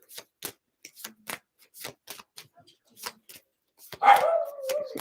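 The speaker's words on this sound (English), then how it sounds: "And there goes my mom's dog barking right now." A small pet dog barks at the end after a run of scattered clicks and taps, giving a short loud bark followed by a trailing yelp.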